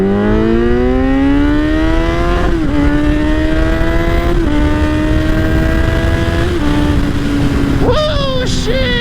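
A Kawasaki Z900 motorcycle roars past with its exhaust, a loud sustained engine drone whose pitch climbs and dips through several gear shifts, then rises sharply again near the end as it passes close by.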